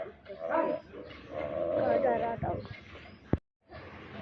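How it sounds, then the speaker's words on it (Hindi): Neighbourhood dogs barking and yipping in a residential street at dawn, a few barks at moderate distance mixed with people talking nearby, ending abruptly. "इकट्ठे हो रहे हैं सारे मोहल्ले के कुत्ते, इकट्ठे हो रहे हैं।"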